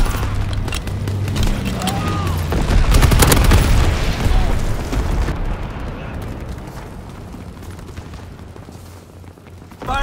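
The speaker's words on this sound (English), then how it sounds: "Incendiary bombs incoming." Incendiary bombs explode in Call of Duty WWII as a heavy, rumbling blast that swells around the middle and then rolls off into a low, fading roar. A final thump lands at the very end.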